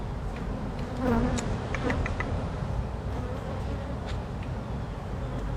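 A dense, steady buzzing of many honey bees fills the air close by, continuous throughout with a few brief louder passes.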